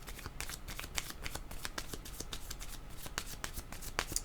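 Tarot cards shuffled by hand in a quick, continuous riffle of crisp flutters and soft slaps, close and fairly quiet with no talking.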